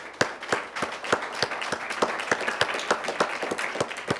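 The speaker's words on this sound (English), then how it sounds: "Let's give them a round of applause." Scattered applause from a small audience at a high school academic quiz match, Cape Coral against South Fort Myers, with distinct individual claps in a loose, uneven rhythm, fairly close and steady for a few seconds.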